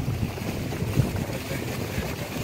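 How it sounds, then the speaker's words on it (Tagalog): Strong northeast monsoon wind roars steadily over Laguna Lake with a low rumbling wash of big waves, a constant blustery noise with no voices. "Ang lakas ng hangin tsaka malalaki alon."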